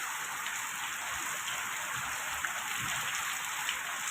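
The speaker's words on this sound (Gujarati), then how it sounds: "ગારિયાધાર જિલ્લામાં પવન સાથે ધોધમાર વરસાદ પડી રહ્યો છે" Heavy rain driven by wind pours down in Gariyadhar, a dense, steady hiss of drops hitting surfaces with faint low thuds, continuous and even throughout with no voices.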